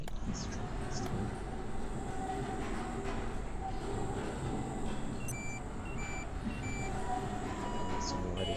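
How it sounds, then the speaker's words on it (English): A train in the video game Abiotic Factor gives a steady rumbling, rolling drone with faint high tonal beeps and squeals that come and go above it. "So we can take this train this time."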